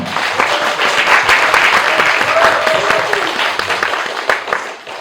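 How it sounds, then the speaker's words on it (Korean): Loud, dense applause from an audience at a film screening Q&A, many hands clapping close and continuous, tapering slightly near the end. "큰 박수 한번 부탁드립니다"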